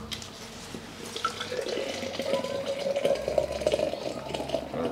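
Jam Milkshake sour beer poured hard from a can, a steady splashing, gurgling stream filling a glass close by for about five seconds, with no talking.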